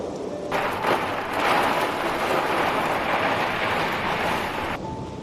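Strong wind from a night storm that also brings heavy rain and hail roars around a camper van. It is a loud, continuous broadband rush with no voices.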